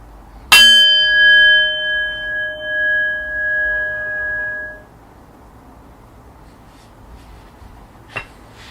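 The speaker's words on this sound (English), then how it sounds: "in just a moment I will ring the bell, ending our first round of meditation" A single meditation bell is struck to end a round of meditation. It gives one clear ring whose bright tone lingers and fades over about four seconds into near silence, followed later by a faint small click.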